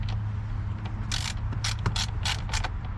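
A ratchet clicks in quick, uneven bursts while tightening a purge valve solenoid on a 2009 Infiniti FX35, close and crisp against a quiet background.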